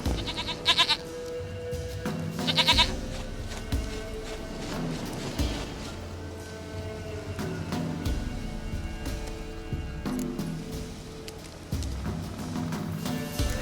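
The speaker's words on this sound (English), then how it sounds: "Goat of mine, dearest," Goat bleats in The Witcher 3, two short quavering calls early on, then game ambience and music continue for a long stretch without further clear bleats.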